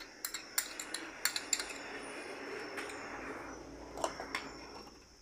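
A spoon clinks and scrapes against a bowl while mixing a wet spice paste of green chilli, ginger, cumin, tomato paste and turmeric: a run of sharp irregular taps and clicks, then quieter stirring and a few more clinks.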